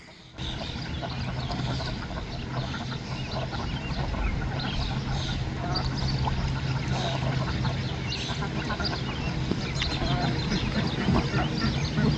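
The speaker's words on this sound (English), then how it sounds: "Alright, birds, hang out in the pond for a while." Ducks and other fowl on a homestead pond quack and honk in overlapping calls over a steady watery background, with a person talking at times.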